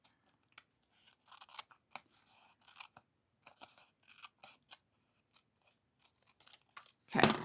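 Scissors trim cardstock in a quiet room, a run of short crisp snips and crunches coming in irregular bursts close by, ending in a louder rustle.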